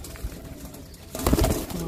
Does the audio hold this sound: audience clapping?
no